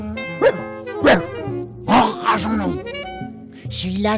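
A dog barks several times in separate loud, close bursts, with a yip and low groaning whine between them, while someone speaks French over and between the barks.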